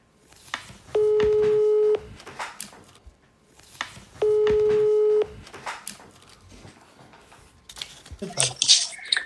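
Telephone ringing for an incoming call, two long steady electronic rings about a second each with a pause between, loud and close, with voices and other noises in the gaps.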